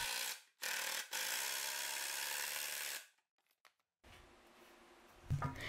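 A power drill drives 2.5 inch screws into 2x4 workbench legs in two loud, steady bursts, a long whir followed by a short quiet gap and softer handling noise.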